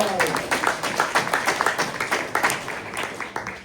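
Audience at a tech startup demo night claps for Vism AI, a steady burst of applause with distinct individual claps lasting a few seconds.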